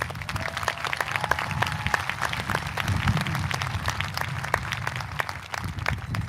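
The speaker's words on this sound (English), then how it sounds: "Can we please give them a round of applause?" A high school graduation ceremony crowd applauds steadily, many hands clapping in a continuous sustained wash with sharp individual claps standing out, moderately distant in a large venue.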